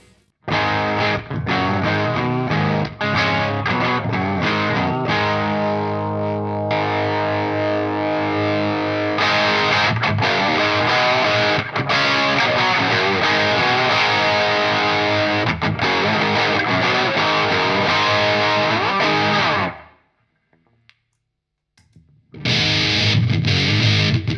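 Heavily distorted electric guitar, played through distortion pedals, plays loud sustained chords and riffs, alone and up close, stopping briefly before a final burst of crunchy strumming.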